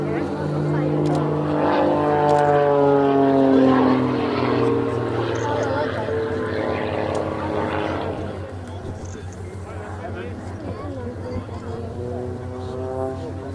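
Apache attack helicopter tumbling end over end during an aerobatic display at the Cosford airshow, a loud continuous rotor and engine roar with shifting pitch sweeps, heard under a commentator's voice throughout.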